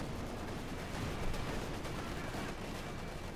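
Tank gunfire from a T-34 during a battle in Company of Heroes 2, heard as a dense, loud, continuous roar of shots and blasts blending together with no distinct pauses.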